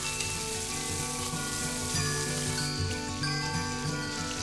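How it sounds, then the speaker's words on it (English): Fish fillet frying in butter in a hot pan, a steady close sizzle and crackle with light metallic tinkles of the pan, continuous throughout with no talk. "After 1 minute in the butter, carefully turn the fish over and fry for another 2 minutes"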